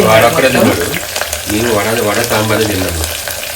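Puri frying in hot oil, a steady loud sizzle and bubbling close by for the whole stretch, with some soft voices underneath.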